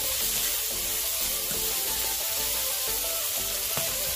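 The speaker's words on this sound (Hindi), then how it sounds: "साथ ही इसमें हम प्याज डालेंगे और इसको हम थोड़ा सा सोटा करेंगे 2 से 3 मिनट से।" Onions sautéing in a pan for vegetable biryani, a bright, constant sizzle with faint clinks and stirring knocks at intervals, close and loud with no talking.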